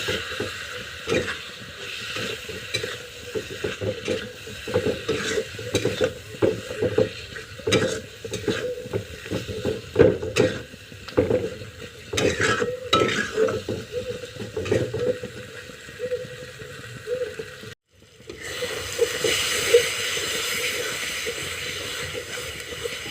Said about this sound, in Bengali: অল্প একটু জল দিয়ে দেব। এবার এটাকে ভালো করে মিক্স করব।